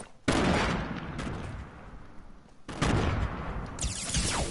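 Thrown grenades explode in a first-person shooter, two loud broadband blasts a few seconds apart, each followed by a rumbling decay, with no talk during the blasts.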